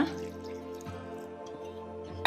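A little water is poured into a mixer-grinder jar holding ginger, giving a soft, steady trickle with a faint ringing tone, ending in a brief louder splash.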